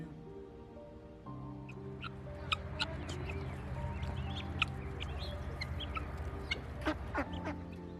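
Chickens cluck and chatter in a steady, busy stream over a low background hum, with short sharp calls standing out now and then, close by and moderately loud.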